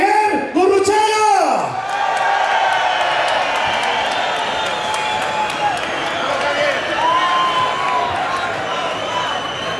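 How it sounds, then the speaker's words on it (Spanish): At the Pingüinos 2019 motorcycle rally, a large crowd breaks into sustained applause and cheering, a dense, broad roar that carries for several seconds after a short shouted announcement. "¡Fuerte el aplauso!"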